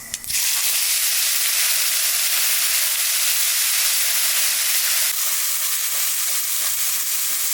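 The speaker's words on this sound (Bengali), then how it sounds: "তেলের উপর দিয়ে দেবো কটা জিরে, আর দেবো বাটা মশলা।" Cumin seeds and ground spice paste hitting hot oil in a pan while cooking prawns with jackfruit seeds, a loud steady sizzle that bursts in at the start and hisses on evenly.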